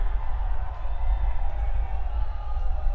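A big festival crowd at a concert during the Shirui Lily Festival roars and cheers continuously in a dense wash of voices, loud and sustained with a heavy low rumble beneath.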